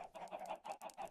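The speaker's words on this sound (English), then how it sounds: "There were 4 chickens in that!" Minecraft chickens freshly hatched from thrown eggs give a quick run of soft, close clucks, several short chirpy calls in about a second, fairly quiet and alone.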